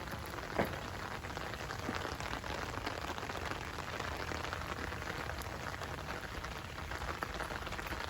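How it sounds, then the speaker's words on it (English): Rain patters steadily on a large jumbo umbrella during an outdoor walk, a dense, even hiss with occasional louder drops, close and continuous with no talking. "I'm walking in the rain with my jumbo umbrella."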